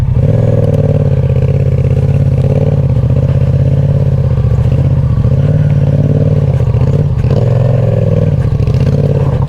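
A motorcycle engine drones loud and steady, rising and dipping slightly as the bike rides along.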